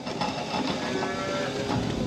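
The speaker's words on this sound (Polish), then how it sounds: "Zaraz tą jedną krowę będę musiał znowu do obory wgonić" A cow near the barn gives a long, muffled moo within a steady, noisy farmyard background.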